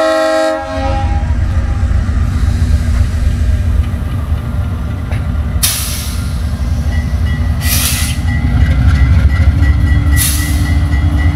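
A loud diesel train hauled by BB36-7, U20C and G12 locomotives approaches, rumbling steadily close by, its horn sounding in several bursts over the heavy engine drone and rolling wheels.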